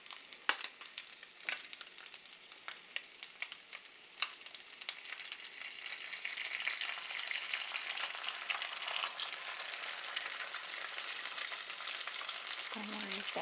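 Eggs cracked into a hot pan for a Valentine's breakfast, frying with a steady bright crackling sizzle and scattered sharp pops, close and continuous throughout.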